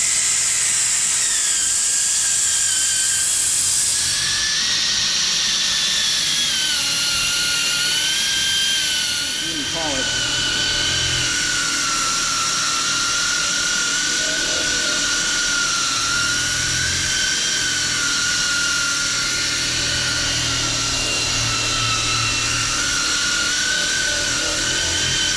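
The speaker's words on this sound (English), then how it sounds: "I'm gonna go ahead and polish the whole light" Power polisher working over a Porsche 911 headlight during restoration: a continuous high-pitched whirring motor drone with wavering pitch throughout, close and loud, with a person talking over it.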